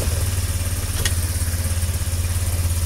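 Avantis Hunter 200 quad bike, a 2019 delivery model, with its engine running at a steady low idle throughout and one brief clatter in the middle, loud and close.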